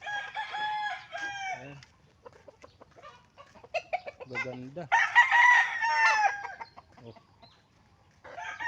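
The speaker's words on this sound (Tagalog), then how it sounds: "Ang daming pansabong na manok mga Pinoy." Fighting roosters crow repeatedly nearby, with scattered clucks and other fowl calls in between; a person speaks briefly among them.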